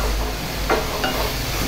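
Tomatoes sautéing in oil for Nellore-style tomato rice, with a close, steady sizzle and two quick scrapes of a stirring spoon against the pan.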